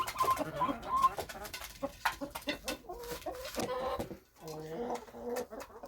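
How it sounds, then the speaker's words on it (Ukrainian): Chickens cluck and chatter close by in a farmyard as they peck at scattered grain. The calls come in a busy, overlapping stream, with soft voices in the background. "Ось курочки їдять зерно."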